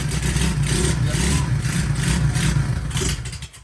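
Tao Motor DB14 dirt bike engine running steadily and loud nearby, a low droning putter with slight revving throughout, easing off at the very end.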